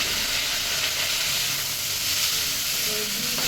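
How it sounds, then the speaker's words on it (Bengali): Mint leaves and leafy greens fry lightly in a pan, giving a steady, close sizzle with a bright hiss that runs evenly throughout, with faint stirring scrapes and no talking. "দিয়ে দিচ্ছি পুদিনা পাতা তো এই শাকটা বেশি ভাজা যাবে না হালকা ভেজে নিতে হবে"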